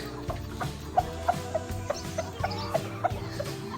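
A rooster makes a steady series of soft, regular clucks close by, repeating every fraction of a second over low farmyard background noise.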